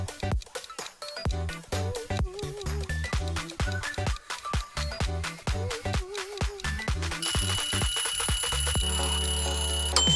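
A quiz countdown timer ticks steadily through a game show segment, a rapid run of sharp, evenly spaced clicks over a short looping tune that builds into a sustained, brighter tone near the end. No one speaks.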